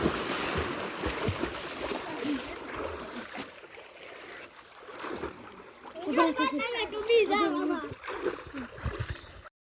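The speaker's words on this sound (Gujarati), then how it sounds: "આ જો પાછી બીજી વાર ડૂબકી મારે" Splashing in an outdoor swimming pool as a person dives in, with bursts of water churning and people talking and shouting throughout.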